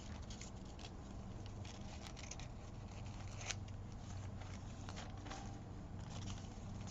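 Scissors snipping through paper around a pumpkin shape while making autumn envelopes, quiet close-up crisp cuts in an irregular series over soft background hiss.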